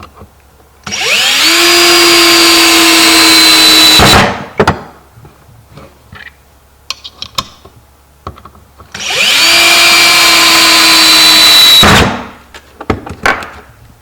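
Powered screwdriver driving the screws supplied with a latch to fix a latch striker onto the end of a 2x2 for a trap: two sustained whirring bursts of about three seconds each, close and loud, each ending in a clunk.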